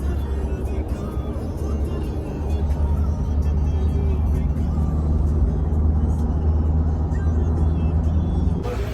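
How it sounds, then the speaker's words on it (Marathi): Steady low road rumble from inside a car travelling on a long highway journey toward Ujjain, a continuous engine and tyre drone with no breaks, close and loud throughout. "गाडी आमची कंटिन्यू चालू आहे"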